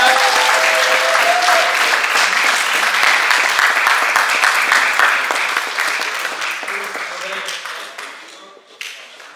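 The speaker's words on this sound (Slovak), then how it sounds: "Veľký potlesk pre nevestu a pre ženicha." Loud applause for the bride and groom at a midnight wedding veiling ceremony in a hotel hall, dense clapping close by that holds steady and then gradually thins out, with a few voices heard near the end.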